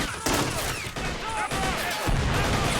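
Gunfire exchange in the Army Men of War battle simulator game: dense, continuous rattling fire with overlapping shots, loud and busy throughout, with voices mixed in.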